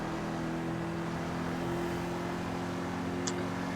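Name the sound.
Albany V-STR Custom car engine rasp in video game GTA 5 Online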